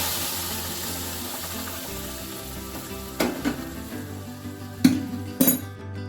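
Warm water poured into a pan of spicy semolina sets off a steady sizzle and bubbling, with a few sharp splashing bursts near the end, close and moderately quiet.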